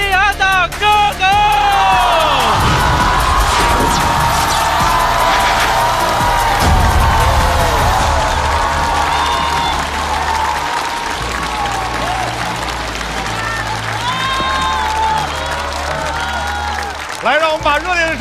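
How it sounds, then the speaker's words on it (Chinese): A live audience at a variety show featuring rappers and stand-up comedians cheers and applauds loudly and without a break, with whoops and crowd noise rising over the clapping. A host's voice cuts through at moments. "让我们把热烈的掌声送给4位优秀的 rapper"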